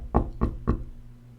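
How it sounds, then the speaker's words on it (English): Three evenly spaced knocks on a door, close and solid with a low thudding body, followed by a faint steady hum. "You hear a knock on the door."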